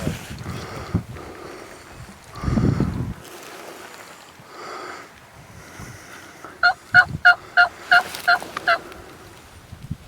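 Wild turkeys gobbling in the spring woods in Canada, a quick rattling series of about eight loud gobbles near the end, with softer bird calls and a low thump earlier in a quiet outdoor setting.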